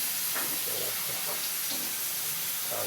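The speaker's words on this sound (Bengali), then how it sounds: "ভাজা হয়ে যাচ্ছে।" Chicken sizzling in a small pan for chilli chicken, a steady close hiss of frying oil running without pause, with faint clinks and no talking.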